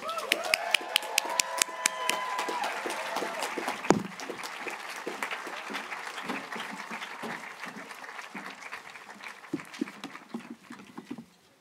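Graduation crowd applause at a college commencement ceremony in Santa Fe, a dense, steady patter of many hands clapping that slowly thins out, with some talking at the start.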